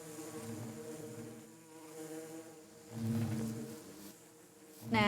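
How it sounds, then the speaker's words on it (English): Minecraft bees in the All The Mods 10 modpack give off a steady, droning buzz that swells and fades as they hover nearby, with no other prominent sounds. "These poor bees. They're like floating around hopeless and helpless."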